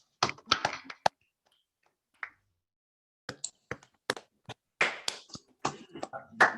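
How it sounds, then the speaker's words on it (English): Video call participants unmuting and clapping, scattered sharp claps and taps in irregular bursts with gaps between, mixed with brief voices. "we can all unmute and clap him"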